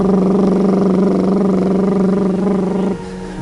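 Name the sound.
lip trill breathing that imitates a scooter or motorbike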